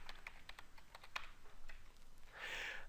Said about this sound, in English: If I go into character name here now, I could type in, let's say I'll type in Homer Simpson.